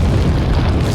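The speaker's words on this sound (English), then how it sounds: "throw some grenades." A grenade blast in the 2005 video game Resident Evil 4: a dense, loud, rumbling boom that fills the whole second with no pause or talk.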